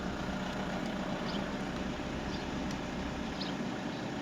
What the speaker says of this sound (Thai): สตาร์ทฟังเสียงเครื่องยนต์ให้ลูกค้าได้ฟังกันเลย